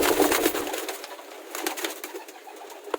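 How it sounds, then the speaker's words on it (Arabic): Arabian penguin fancy pigeons cooing close by, soft repeated coos over a steady airy background hiss, with a few faint clicks and rustles and no talking. "هذا حمام زينة بطريق عربي."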